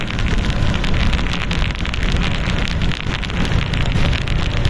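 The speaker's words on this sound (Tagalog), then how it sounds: "Sa ngayon na umuulan po ito" Typhoon rain pours steadily in Baguio City, a constant dense hiss of drops hitting surfaces with some wind noise, even and unbroken from start to finish.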